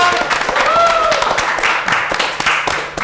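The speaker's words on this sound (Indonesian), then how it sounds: "Tepuk tangan" Hand clapping and applause from a gathered audience at a Ramadan madrasah event, dense and fairly loud with voices mixed in and a brief tonal voice near the start.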